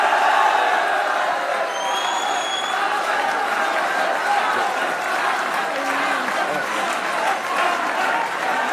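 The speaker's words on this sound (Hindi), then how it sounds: "अहमद भाई की तरफ से बाबर के लिए तालियां होनी चाहिए" A large crowd applauds and cheers steadily for the cricketer Babar at a Pakistan–India cricket event, a dense roar of clapping with whoops, while speech-like voices sit underneath throughout.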